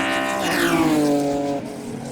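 A Ford GT40 race car overtakes on a circuit's main straight during a track day, its engine note rising loudly then sweeping down in pitch as it passes close by, with a sudden drop in level at the end.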